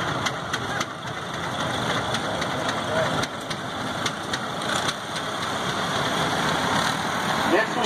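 A 1959 Ford HD Industrial tractor with four-wheel drive conversion runs in an engine show parade, a steady mid-pitched engine chug with some knocking, fairly close, under a background announcer's voice.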